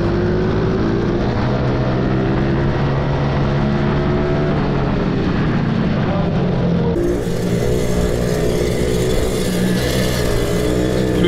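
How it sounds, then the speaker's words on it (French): A mini motorcycle engine drones loudly and steadily during a race, struggling as if short of breath, its pitch wavering with revs throughout, with no talk. "la moto de Julian fait du bruit"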